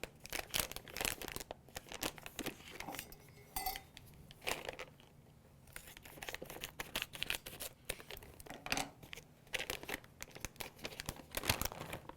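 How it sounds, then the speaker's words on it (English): A candy jar being opened at close range, with faint clinks, lid handling and crinkly rustles scattered over several seconds, no talking. "I'm just going to open my jar."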